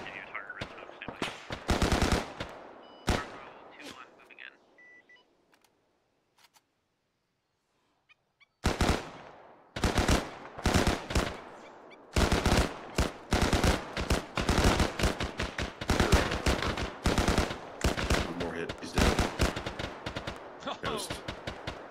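Rapid bursts of gunfire from a multiplayer military video game, dense automatic volleys crackling loud and near, with a brief quiet gap before the shooting resumes in sustained, overlapping rattles.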